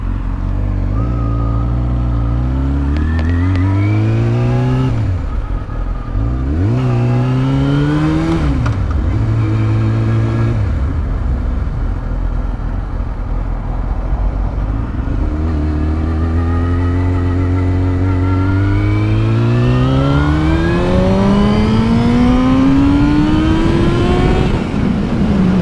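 A 2003 Yamaha R6 motorcycle engine revs hard and loud to high RPM, rising and falling through several climbs before one long sustained scream, heard up close and alone with no talking.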